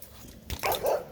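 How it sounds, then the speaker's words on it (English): A dog gives a couple of short, moderately loud barks close by after a brief quiet stretch, with a low growly edge. "He's just a good dog."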